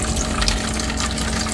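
A small water pump in a camper van runs with a steady hum and liquid gush as gray water drains away, continuous and close for the whole stretch.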